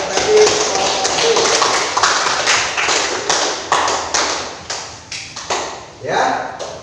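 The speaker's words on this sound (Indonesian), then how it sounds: "Tepuk tangan untuk hasil presentasi kelompok B" Scattered, uneven clapping from a small classroom group after a group presentation, coming in irregular bursts with voices mixed in.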